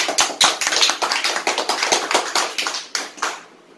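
Studio audience at a Hindi quiz show claps in a brief, close burst of sharp, irregular hand claps that thins out and stops near the end.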